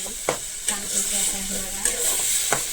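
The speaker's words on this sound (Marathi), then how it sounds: "कारण आपण टॅमॅटो वगैरे कच्चाच घेतलेला आहे त्यामुळे मी तेलामध्ये फ्राय करून घेते" Garlic and raw tomato fry in hot oil for baingan bharta, a steady close sizzle broken by several sharp scrapes and knocks of a spoon stirring the pan.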